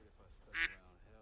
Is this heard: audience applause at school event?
no